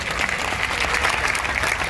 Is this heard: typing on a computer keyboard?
no